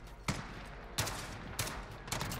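Gunfire in Call of Duty Modern Warfare: four loud, sharp shots spaced roughly half a second apart, each ringing out briefly over a steady background rumble, with no talking.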